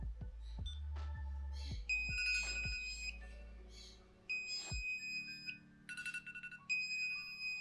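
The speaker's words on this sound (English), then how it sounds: "Something more gentle will sound like this." A Knog Scout bike alarm plays its gentle beep tone: a series of soft electronic beeps and tones in short repeating patterns, fairly quiet and close, with no voices.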